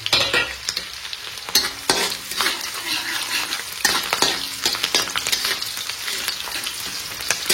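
Nuts and raisins are stirred in a hot pan with onion, garlic and chopped chillies for chicken fried rice, a continuous loud sizzle broken by repeated scraping strokes of the spoon.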